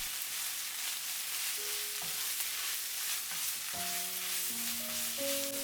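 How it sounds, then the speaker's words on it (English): Ground pork with onion and garlic frying on high heat for popiah filling, a steady bright sizzle running throughout with occasional stirring, with no talk. "Add the ground pork, put on high heat, and stir occasionally for 3 minutes."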